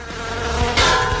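Bees swarm around a piece of honey, their steady, close, droning buzz swelling briefly louder partway through the short burst, with no voices.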